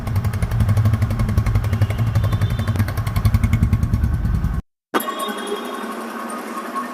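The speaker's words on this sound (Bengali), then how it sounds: "রানিং অবস্থায় গাড়িটির সাউন্ড শুনুন" Close, continuous running of a 2022 TVS Apache RTR 2V motorcycle engine with a steady rapid beat, cutting out briefly near the end before quieter, thinner engine noise resumes.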